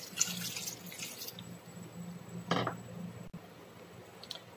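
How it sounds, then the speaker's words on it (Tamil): Water runs and splashes into a metal pressure cooker holding spices for idli sambar for about a second and a half, then a brief splash follows with light clinks, quiet otherwise. "இப்போ இதில் தண்ணி சேர்த்துக்கலாம்."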